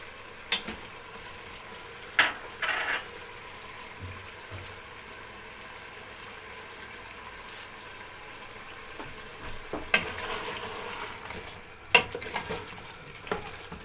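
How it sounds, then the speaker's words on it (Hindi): Oil heating in a karahi while ingredients for beef tikka are stirred, a soft low sizzle with occasional scraping and clinks of a utensil against the pan, faint and sparse, with no talking. "ये देखें, 1 प्याली ये मैं ऑयल की डाल रही हूँ।"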